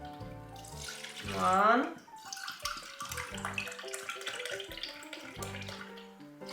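Tap water pours into a container for a pickling brine of apple cider vinegar, honey and salt, a short rushing splash under a woman's speech, with kitchen clatter following.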